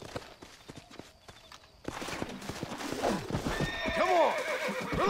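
In Red Dead Redemption, hooves clop in an uneven rhythm, then a horse whinnies loudly with a rising, wavering neigh over a steady background of game ambience.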